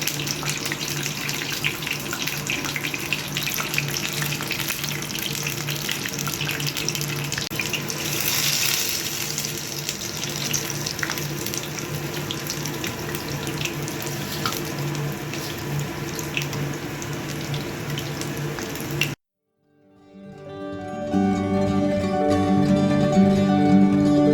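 Pumpkin flower fritters coated in batter sizzle steadily in hot oil deep enough to submerge them, a loud, continuous frying hiss that cuts off abruptly near the end before tonal, music-like sounds take over.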